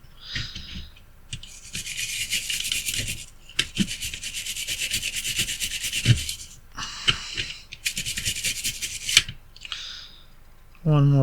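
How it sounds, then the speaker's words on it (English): A brush scrubs a preamp circuit board with alcohol to clear rosin flux, giving bursts of close, dry, hissing strokes separated by pauses, ending with a short low thump. "Take the brush, give a good scrub to remove the excess of the"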